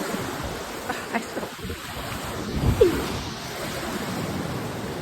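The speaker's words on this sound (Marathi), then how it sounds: "लाट बघा" Ocean waves breaking on the shore at Ratnagiri, a steady broad wash of surf with a wave swelling and breaking near the middle, mixed with wind noise on the microphone.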